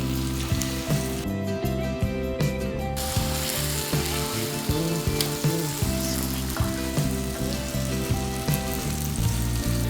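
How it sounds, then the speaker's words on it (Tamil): Long chicken strips fry in hot oil, a steady close crackling sizzle running throughout with frequent sharp pops and clicks, loud and continuous with no voices. "சூடானதும் நம்ம சிக்கன் அதில் போட்டு ஃப்ரை பண்ணி எடுத்துக்கிடுவோம்."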